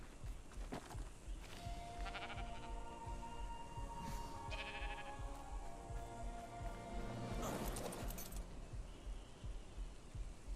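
Sheep in the ARK: Survival Ascended video game bleat several times, loud and close, with wavering calls layered over constant game background noise.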